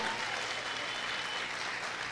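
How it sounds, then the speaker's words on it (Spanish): A church congregation claps during a Spanish-language apostolic conference, with even, continuous clapping heard from a distance at moderate volume. "Aplaude fuerte al Rey."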